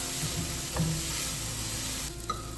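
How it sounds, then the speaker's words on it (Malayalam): Chili powder and green chili being stirred in a pan while cooking kadai paneer, a continuous sizzle with occasional spoon scrapes, close and steady, no talking. "ഒരു ടേബിൾ സ്പൂൺ മുളക് പൊടി ഇട്ട് കൊടുത്തു അതൊന്ന് മിക്സ് ചെയ്യാം പച്ചമുളക് മാംസം ഇളക്കി കൊടുക്കാം"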